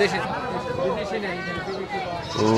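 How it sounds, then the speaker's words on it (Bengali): Small local goats bleat at a rural village livestock market near the Bangladesh–India border, short wavering calls rising over a steady murmur of crowd chatter and nearby talk. "এই যে এখানে সব ছাগল নিয়ে আসছে বিক্রেতারা বেচা বিক্রি করার জন্য"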